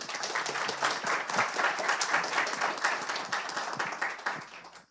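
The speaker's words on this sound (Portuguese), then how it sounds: "Uma salva de palmas," Audience applause at a public-private agenda forum in Belém, a fairly close crowd of individual claps rising and holding steady before tapering off.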